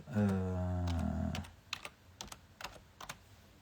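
Typing on a computer keyboard in quick irregular bursts of close, crisp key clicks, following a brief low hum at the start.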